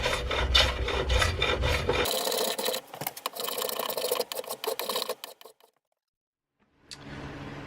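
Rasping and rubbing along the edges of a yew end grain chopping board to chamfer them, close and repetitive strokes that stop into a brief silence before a softer rasp resumes.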